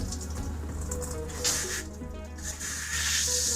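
An RV shower valve on the hot side sprays antifreeze in hissing, sputtering bursts, close and fairly loud, with the spray surging irregularly.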